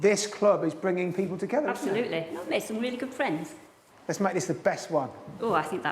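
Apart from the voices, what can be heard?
No everyday noises stand out.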